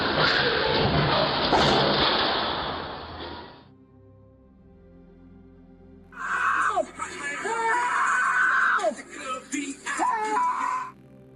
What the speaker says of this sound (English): With the way she's screaming, you'd think she had just been involved in a horrific incident